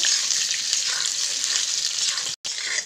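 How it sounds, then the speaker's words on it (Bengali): Eggs frying with boiled potatoes in oil for egg curry, a loud, close, continuous sizzle with light stirring, briefly cut off for an instant near the end. "এখন আলুগুলোর সঙ্গে দিয়ে অল্প অল্প করে ভেজে নেব।"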